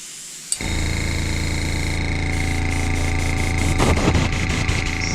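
After a brief silence a budget airbrush compressor motor switches on with a sharp click and runs steadily, a loud, even mechanical hum with a faint rattle.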